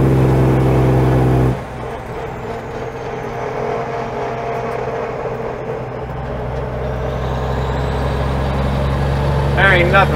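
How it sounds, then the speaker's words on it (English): A Cummins engine in an old twin-stick Mack truck rumbles loud and steady, opening with a heavy low drone that drops at a shift into a continuous rough roar from inside the cab. "There ain't nothing like a Cummins Jake Brake."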